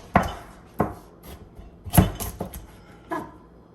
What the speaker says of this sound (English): For the carrot, I'm gonna cut the carrot down the middle